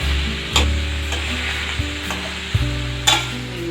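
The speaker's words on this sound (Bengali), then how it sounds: "আমি একটু হালকা ভাজা ভাজা করে নেব।" Young green jackfruit for a fish-head curry fries lightly in a pan, a continuous close sizzle broken by a few sharp knocks and scrapes of a spatula stirring, with no talk.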